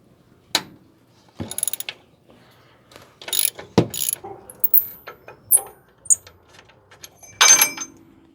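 Ratchet wrench loosening a suspension bolt on the front end of a Ford F-150 during a lift spring install: scattered bursts of sharp metallic clicking, close and fairly loud, with quiet pauses between strokes.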